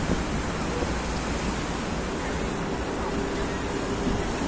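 Sea waves on the Alexandria shore after a storm make a constant loud roar of surf, broadband and unbroken, mixed with wind rushing against the microphone.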